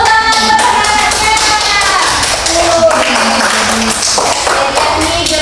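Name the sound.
applause for the students in a classroom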